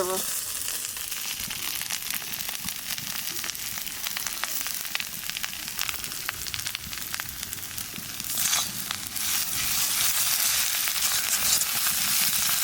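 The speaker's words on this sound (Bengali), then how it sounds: "কুটা লঙ্কা দিয়ে একটু চেড়া দিলাম আহানে চিংড়ি মাছ দিয়ে আর একটু কাঁচা শস্যের তেল দিয়ে নামাই" Shrimp frying in a pan with chili and raw mustard oil, a steady close sizzle with scattered crackles throughout, growing louder and denser toward the end, with no talking.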